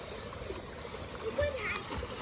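Water splashes and gurgles softly as Chiku swims, with a brief louder splash in the middle, while voices talk over it.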